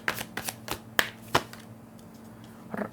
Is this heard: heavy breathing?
no